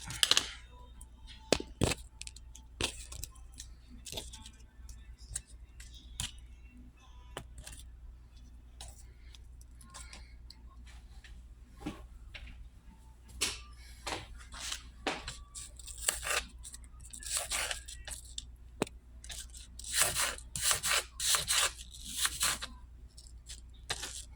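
A knife or scissors trims the skin off raw chicken, giving faint, scattered snips and clicks at an irregular pace in a quiet kitchen.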